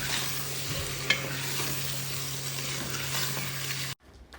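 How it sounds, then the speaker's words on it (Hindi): Liver, kidney and lung pieces frying with onions in a pan give a steady, close sizzle and crackle, with a scrape or two of stirring, before cutting off abruptly near the end. "और इसे प्याज के साथ थोड़ा सा फ्राई कर लेंगे"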